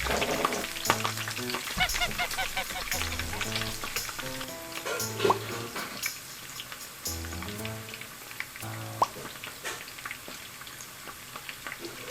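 Shrimp frying for gambas al ajillo in a pan of hot oil gives a dense, crackling sizzle with constant popping spatters and some soft tonal clinks beneath, and no one speaks.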